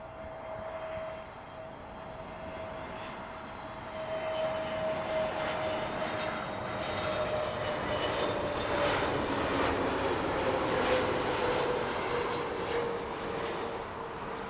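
An aircraft landing on runway 09 left at Heathrow Airport during reverse operations, its engine roar steady and fairly loud throughout, swelling slightly midway with a whining tone drifting downward as it passes.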